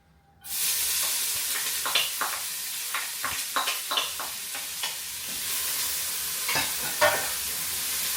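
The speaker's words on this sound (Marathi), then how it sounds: "भाजता ऑनियन आनी टोमॅटो आनी मागीर हांव बीफ घालतलें आनी बरें भाजतलें" Onion and tomato fry in a pan with a sudden loud, steady sizzle that starts after a brief quiet moment, broken by repeated scraping and clicking strokes from stirring.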